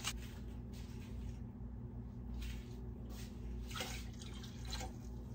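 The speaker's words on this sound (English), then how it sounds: "Just add the rest of my water." Water being poured into a pot while canning pickles, a soft, continuous splashing with a few brief louder gushes, faint and close.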